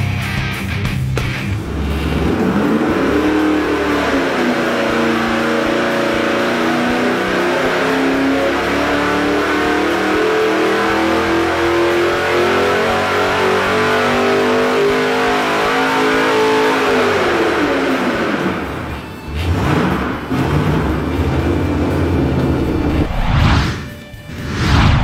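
A supercharged LS3 V8 fitted with a Brian Tooley Racing Stage 3 cam roars loud and close, its revs climbing steadily under sustained load for a long pull before dropping back off, with no voices.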